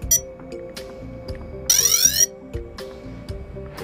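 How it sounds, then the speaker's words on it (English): A Yuneec Typhoon H drone, just powered up, gives off short electronic beeps and tones, then a bright rising chirp sweep lasting about half a second, with further brief beeps after it, close and clear with no talking. "the aircraft beeps periodically to remind you it's powered up"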